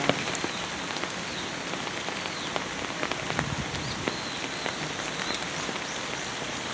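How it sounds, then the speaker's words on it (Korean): Heavy rain falls among rocks and trees in a steady, dense hiss, with scattered sharper drops pattering nearby and no speech. "또 비가 많이 옵니다"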